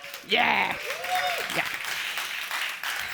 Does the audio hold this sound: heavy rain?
no